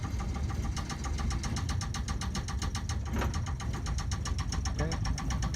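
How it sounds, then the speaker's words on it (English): An engine, started with a starter button and lever, runs at a steady idle with a fast, even mechanical knocking pulse and a tonal whine above it, close and continuous throughout. "Engine is running."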